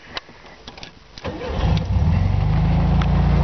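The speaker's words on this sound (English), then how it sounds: "Little engine fires right up at the touch of a key." A 1973 VW Beetle convertible engine cranks briefly after a few clicks, then catches and settles into a steady, close rumbling idle.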